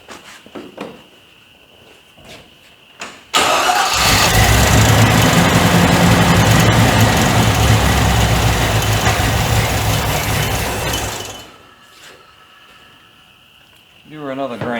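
A 1940 Chevy coupe engine being cranked over, giving a loud, steady churning roar for several seconds before it cuts off, with quieter shop noise before and after.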